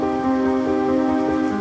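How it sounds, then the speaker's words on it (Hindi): Heavy rain pours steadily throughout a cartoon scene about a poor farmer, a dense continuous wash with a sustained musical drone or tones layered over it and no voices. "ये देखो कितनी तेज बारिश हो रही है"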